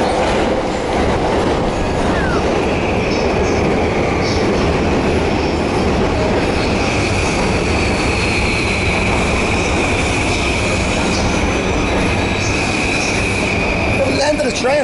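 A train at a station in Tokyo or Yokohama, Japan: a loud, steady rumble of rolling railcars with a sustained high wheel squeal running throughout, and faint crowd noise beneath.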